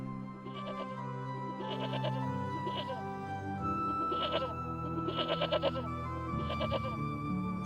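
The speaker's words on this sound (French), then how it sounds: "Une de mes brebis est tombée dans le ravin." Sheep bleat repeatedly in short wavering calls, several overlapping bursts rising over a sustained musical background, fairly close and clear.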